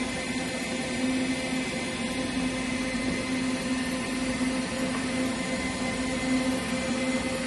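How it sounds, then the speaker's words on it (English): A 2001 Hardinge Conquest GT27SP super precision gang tool lathe with FANUC 18i control runs at a steady 1500, giving a continuous even machine hum with a tonal drone and a broadband hiss, close and unchanging. "This is a HARDINGE CONQUEST GT27SP Super Precision Gang Tool Lathe."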